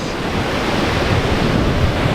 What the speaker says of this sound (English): these waves are massive. These are the biggest waves we've seen since we got here yesterday.